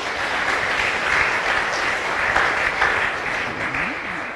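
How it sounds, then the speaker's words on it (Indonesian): Congregation applause at a Christian testimony gathering, a thick continuous wash of many hands clapping at fairly high volume, swelling slightly in the middle and holding without a break. "Kita tepuk tangan dulu saudara-saudara."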